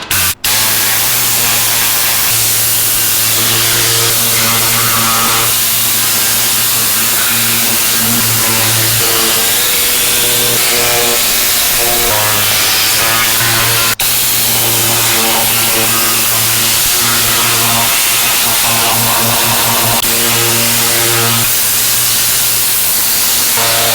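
Tornado air cleaning tool blasting compressed air inside the cab of a Kenworth vac truck, a loud continuous hissing roar with a droning tone that shifts slightly as the nozzle moves, close and alone.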